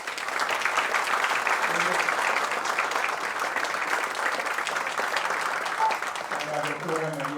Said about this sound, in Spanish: Les pido por favor que le den un aplauso.